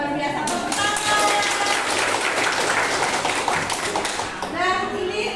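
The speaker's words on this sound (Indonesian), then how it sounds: "Tepuk tangan." Classroom applause during an Indonesian school lesson, a steady burst of many hands clapping for about four seconds with children's voices mixed in, ending in a teacher speaking.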